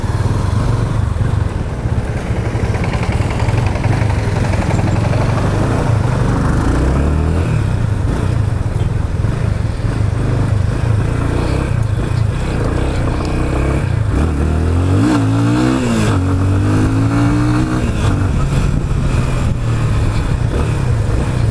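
Yamaha Fazer 25 (FZ25) motorcycle engine on a test ride, a steady loud close-up drone that swells as the rider revs and shifts through the gears, with no talk over it.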